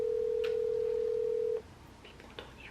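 A steady telephone tone sounds through a handset for about a second and a half during an outgoing call, then cuts off, leaving faint room noise and brief soft sounds.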